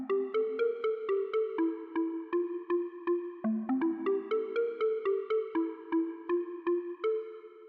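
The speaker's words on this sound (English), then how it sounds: "its lead synth sounds like this" FM-synthesis lead synth with reverb, built in Ableton's Operator for a lo-fi house track at 121 BPM, playing a bright, bell-like repeating melody. The notes are plucky and evenly spaced and play alone, with no talking.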